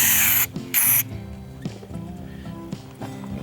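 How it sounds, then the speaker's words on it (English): Two loud hissing bursts of spray lubricant from an aerosol can with a small nozzle, aimed down into a Ford door's glass track, each burst about half a second, close to the microphone, followed by faint handling noises. "I sprayed it down in the track."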